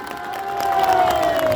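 Audience at a speech giving loud applause and cheering, a swelling crowd roar with shouts and a rising sustained whoop, fairly close.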